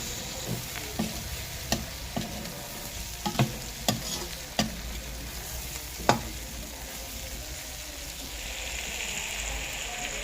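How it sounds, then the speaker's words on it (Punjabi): Bitter gourd fries in a spiced tempering, a close steady sizzle with a series of crisp stirring clicks and taps spaced through the first half. "ਹੁਣ ਆਪਾਂ ਕਰੇਲੇ ਪਾ ਕੇ ਵੀ ਸੇਕੇ ਪਾਵਾਂਗੇ ਤੜਕੇ ਨੂੰ"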